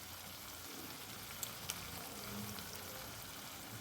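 Poppy seed, chili and cashew pastes fry in a pan, a faint, steady sizzle with a few light clicks from stirring.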